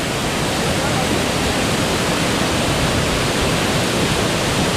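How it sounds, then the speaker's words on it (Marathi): A constant, loud rush of a waterfall with strong wind fills everything, a dense roar without any breaks. "धबधब्याचा आवाज आणि हवा पण सुद्धा खूप आहे"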